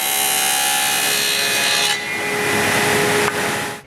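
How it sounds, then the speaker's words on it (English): A table saw fitted with a dado stack cutting a jig part from wood, a loud sustained whining buzz with a shift in tone partway as the blade bites through, then the motor winding down. "So I install my dado stack in the table saw and cut it."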